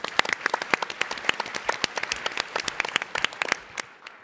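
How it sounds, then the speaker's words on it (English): Applause from a conference audience at a startup pitch competition: many hands clapping in dense, irregular bursts at moderate distance, holding steady for a few seconds before thinning out at the end. "Give her a round of applause."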